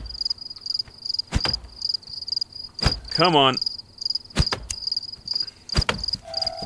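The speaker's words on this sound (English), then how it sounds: "it sounds like the frogs are chirping or crickets are chirping or whatever." Steady high insect chirping, like crickets at night, runs throughout in the video game The Forest, with a few sharp clicks and a brief spoken phrase in the middle.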